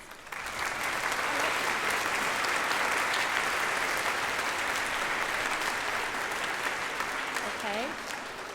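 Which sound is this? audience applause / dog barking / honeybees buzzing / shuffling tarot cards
audience applause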